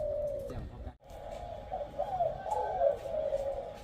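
A caged zebra dove used as a decoy bird coos clearly and close by, a bubbling, rolling coo phrase repeated over a quiet outdoor background.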